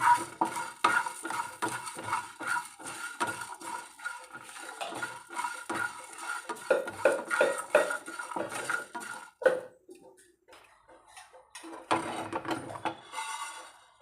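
Ginger and garlic are dry-roasted in a pan with no oil, stirred with repeated scraping and clinking of a utensil against the pan in an uneven rhythm, close and moderately loud, easing off briefly near the end.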